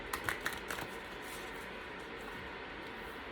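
Oracle cards being shuffled by hand, a few quick crisp riffling flicks at the start, then a faint steady background hiss.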